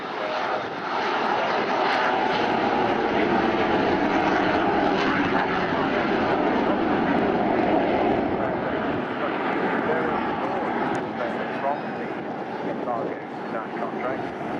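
BAC Strikemaster jet flying at the Air Waves Portrush 2015 air show, its engine a loud, sustained roar that holds steady throughout, with faint wind noise and an announcer talking over it.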